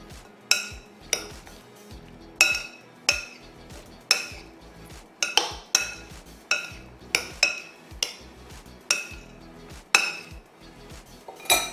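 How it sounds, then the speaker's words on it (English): Vegetables dressed with olive oil and oregano are tossed in a bowl, giving a steady series of sharp clinks and scrapes roughly once a second, close and clear with no voices. "And mix the vegetables together."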